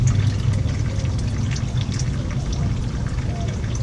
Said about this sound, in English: It's gonna be a lot of fluid, so we gotta just let it drip.